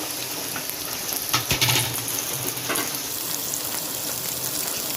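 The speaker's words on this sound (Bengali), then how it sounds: "এবারে পেঁয়াজগুলো দিয়ে দিলাম।" Onions sizzle loudly as they fry in hot oil in a pan, a steady crackling hiss with a brief burst of stirring or clatter partway through, close and with no talking.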